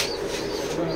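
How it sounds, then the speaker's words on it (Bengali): Pigeons coo briefly, a soft low murmuring call close by in a short moment with faint background noise. "এগুলো হলো প্রবীণ কবুতর"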